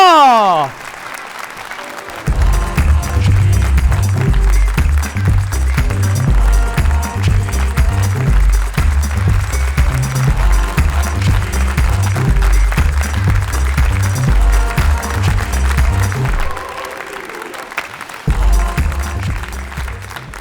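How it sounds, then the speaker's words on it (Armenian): A studio audience claps loudly for guests called onto the stage of an Armenian TV show, the sustained applause running under a thumping rhythmic music beat, with a brief quieter drop near the end. "Ձեր ծափերի ներքո ուզում եմ հրավիրեմ Տիկոին, Գոշին, Օնոյին, Նարինեին, բարձր ծափերի ներքո։"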